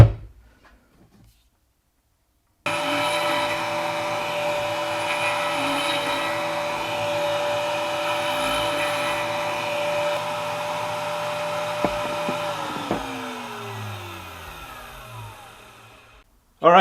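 A router table mills aluminum stock in a light 1/64-inch pass, giving a steady, loud motor whine with a cutting hiss that runs unbroken for about fourteen seconds, then winds down as the bit spins to a stop.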